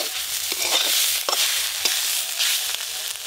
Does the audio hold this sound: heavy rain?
no